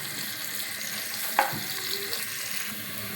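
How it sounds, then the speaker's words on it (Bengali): Chopped onion frying with bay leaf, cinnamon and cardamom in a pan, a soft steady sizzle with one sharp clink or scrape of a utensil and faint stirring noises. "পেঁয়াজ কুচি, তেজপাতা, যে দারুচিনি, এলাচ, এগুলো এখন আমি ব্রাউন কালার করে ভেজে নেব।"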